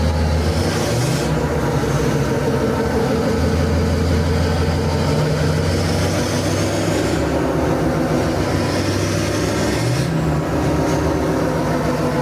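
A Hummer engine runs steadily throughout during transmission gear testing, a loud continuous drone with slight rises and falls in pitch as it shifts.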